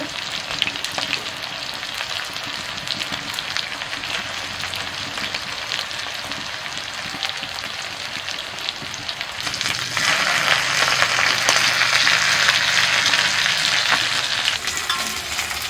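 Pieces of fish coated in spices fry steadily in hot oil, giving a continuous close sizzle and crackle that swells louder partway through.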